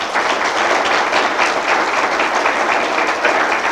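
Loud, dense audience applause thanking a speaker at a talk on Syria, the Middle East and Israel, a close, steady roar of many hands clapping without a break.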